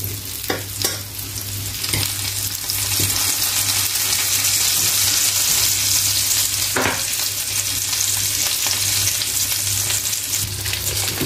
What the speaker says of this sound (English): noodle oil. I will let it cook.